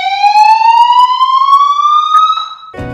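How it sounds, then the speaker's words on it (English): An indoor fire alarm blares loudly with one continuous electronic tone that slowly rises in pitch for more than two seconds. It ends abruptly, leaving a brief clatter. "since I was so rudely interrupted by that fire alarm"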